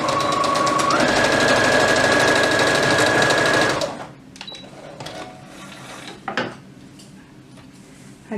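A sewing machine stitches a half-inch seam along the lined-up finished edges of a toddler's elastic-waist dress, running loud and steady for about four seconds before stopping, followed by faint handling clicks and rustles.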